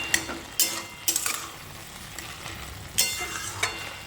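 A pan of Katwa-style data posto, drumstick stems in poppy seed curry, stirred with a spoon: soft sizzling underneath with several sharp scraping clatters spaced irregularly, close and fairly quiet.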